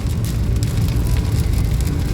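Rain falls steadily around a car, a dense, close patter of drops hissing on surfaces without a break, loud and even, with no voices.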